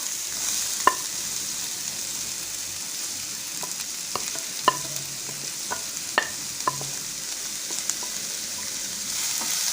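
Finely chopped onion with ginger garlic paste sizzles in a pan for a prawn bun filling, giving a continuous hiss with sharp clicks and taps of a spoon stirring against the pan.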